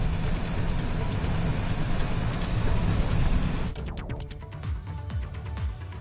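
Heavy continuous rain in Uttarakhand pours down as a dense, loud wash of hiss, then thins into scattered drops and splashes partway through.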